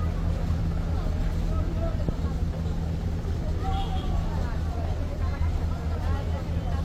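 Passenger launch MV Karnaphuli-13 turning back toward the ghat: a steady low engine drone and water rumble with a background murmur of passenger voices throughout.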